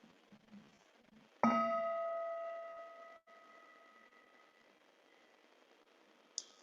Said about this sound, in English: as we listen to 3 sounds of the bell